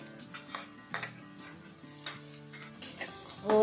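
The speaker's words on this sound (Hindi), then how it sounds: "अदरक लहसुन को भी फ्राई करेंगे तकरीबन 1-2 मिनट के लिए।" Ginger garlic paste sizzles and fries in a hot pan while a spoon stirs and scrapes against the metal in short bursts, with a louder clatter at the end.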